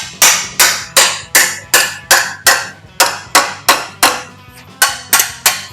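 Sharp, evenly paced hammer blows strike a steel hot rod motor mount bracket clamped in a vise to fold it, about fourteen loud ringing metallic hits, close and alone, with one brief pause.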